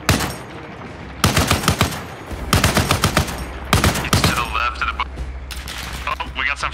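Machine gun bursts and gunfire in the Arma Reforger military shooter, fighting near a Stryker armored vehicle by a tree line; several loud, rapid bursts separated by short pauses over a steady low engine drone.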